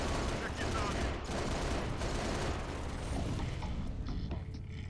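Pelican gunship cannon in the Halo Reach game, Long Night of Solace mission, hammering out a dense, continuous barrage of rapid automatic fire and booming impacts that fills the scene and fades slightly near the end.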